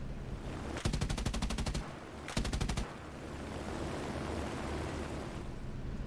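P-51 Mustang fighter guns test-fire in two rapid bursts, the first about a second long and the second shorter, set against a steady rushing background.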